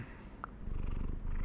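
A cat in Super Auto Pets gives a soft, rumbling purr, low and continuous, with a brief bright chime-like blip near the start.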